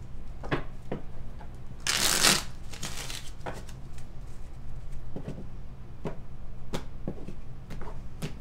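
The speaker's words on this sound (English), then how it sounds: "one last shuffle for Aquarius" A deck of tarot cards is shuffled, a soft papery riffle with one louder burst of cards ruffling, then scattered light taps and slides of cards, close and alone.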